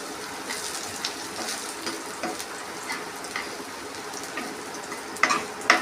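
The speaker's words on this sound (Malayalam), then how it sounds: "കടുക് പൊട്ടുമ്പം ഒരു മൂടി കൊണ്ട് മൂടി വെച്ചോ" Mustard seeds crackle and pop in hot oil over a steady sizzle, with a couple of sharper, louder pops near the end.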